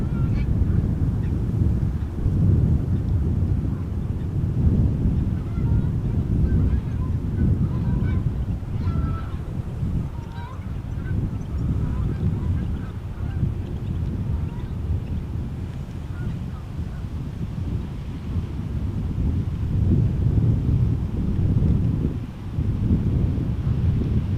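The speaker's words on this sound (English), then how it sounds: "I'm hearing some quacking. I'm seeing some flying, but if these are, whether these are ducks or maybe they are geese, they look like geese." A flock of geese honks repeatedly as it flies near Amsterdam Schiphol Airport, with loud wind noise rumbling across the microphone throughout and the calls carrying from a middle distance.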